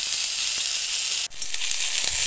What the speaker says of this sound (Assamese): জিৰাখিনি ফুটাৰ পিছত প্ৰথমে মই কাটি ৰখা জিকাখিনি দি দিম আৰু এইখিনি ভালদৰে হেতাৰে লৰাই দিম